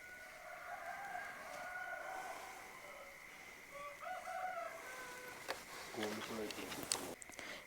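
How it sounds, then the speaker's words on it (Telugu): Roosters crowing in the pitch dark before dawn on Sankranti morning outside a home, with several drawn-out calls rising over a steady background hum and faint voices nearby. "వింటున్నారుగా, కోళ్ళు కూడా కూస్తున్నాయి."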